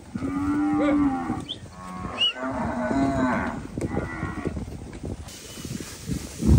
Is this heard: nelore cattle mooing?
yes